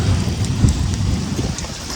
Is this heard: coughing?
no